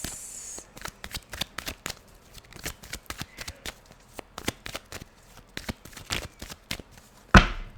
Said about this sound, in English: let's pull some cards for you